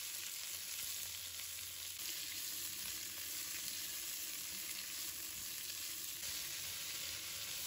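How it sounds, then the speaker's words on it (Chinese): Onion, red pepper, carrot and snow peas stir-fried in a pan with a little oil, a steady close sizzle with faint scraping of the spatula running throughout. "把切好的洋葱、红辣椒、胡萝卜、荷兰豆放入锅中，快速的翻炒均匀"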